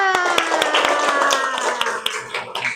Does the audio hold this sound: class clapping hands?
yes